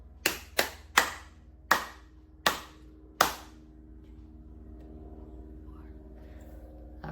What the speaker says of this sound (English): Okay, now you clap it.